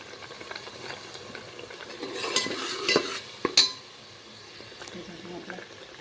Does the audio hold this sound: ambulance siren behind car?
no